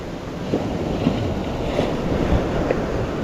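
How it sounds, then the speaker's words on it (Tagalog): Strong sea waves crash on a shore at high tide, a steady churning roar with wind buffeting the microphone and soft surges rising and falling, with no voices. "Lalong lumakas yung alon oh."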